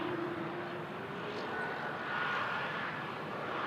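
An airplane at Toronto Pearson airport produces a steady, broad engine roar that holds at a moderate distance throughout, with a faint tonal whine sliding beneath it and no voices.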